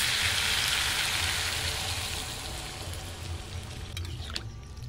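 Water pours into a pan of sizzling vegetarian potato and pea curry, a loud steady hiss and sizzle that gradually softens, with no talking.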